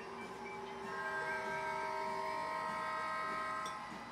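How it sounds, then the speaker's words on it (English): A continuous rolling rumble of a model train running steadily through a U-turn on a layout loop, with a sustained tonal hum and faint squeal over it, no talking. "the train is making a U-turn on the Index loop."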